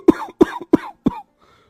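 An old man lying on a cot coughs, four sharp, close coughs in an even rhythm, each with a short rasping tail, then silence.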